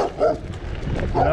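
Dogs bark and yip at a passing cyclist during a bicycle ride, a few short, fairly close barks over wind and road noise.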